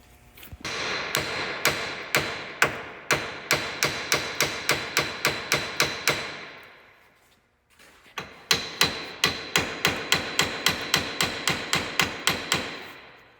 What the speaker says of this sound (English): we're just going to try to hit this with a hammer